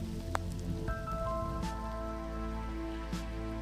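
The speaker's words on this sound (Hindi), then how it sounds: "हवाएं भी हैं और बारिश भी है" Rain falls steadily on a pond in a national park, a continuous patter with a few sharper drop ticks and tonal background sounds, no talk.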